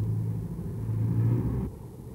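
A Mercedes-Benz Unimog's 90 hp six-cylinder diesel engine rumbles close by, a low steady drone that swells slightly and then drops off abruptly near the end.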